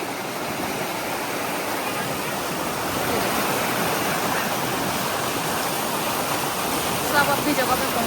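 A river with a fairly low water level rushes steadily in the open, a broad, constant wash of flowing water that stays loud and even throughout.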